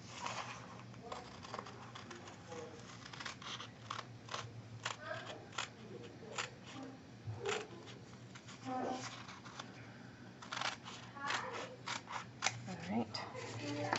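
Scissors snip around an image printed on fabric for a shabby chic heart album page, the short cuts coming in irregular bursts alongside paper and fabric handling, fairly close and quiet, with no talk.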